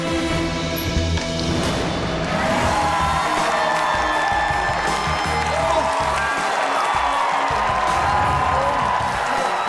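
A large crowd cheering and whooping in a steady roar that holds throughout, loud and close, with scattered shouts rising above the din and a voice talking over it.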